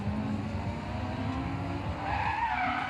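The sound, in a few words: drift car sliding sideways with tire squeal after handbrake entry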